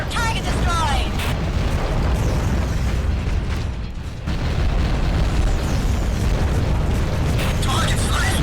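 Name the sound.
explosion of a destroyed target in the AquaNox video game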